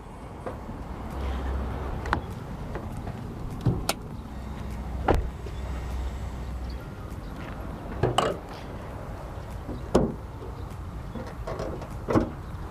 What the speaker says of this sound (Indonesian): Saya buka dulu kap mesinnya.